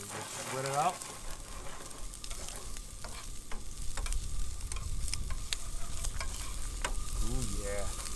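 Onions fry and sizzle in a pan for carbonara, a steady close crackling hiss punctuated by scattered clicks of stirring, while a voice speaks briefly near the start and end.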